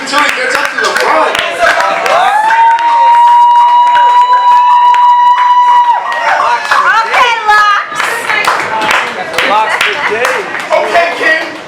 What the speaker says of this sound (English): He's clapping until he gets up to the front.